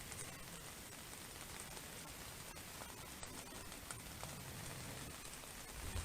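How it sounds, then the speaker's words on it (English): Dense, steady rain patters on a surface at a campsite, a constant wash of drops with occasional sharper taps, and no voices. "Oh, rain picked up a whole lot more."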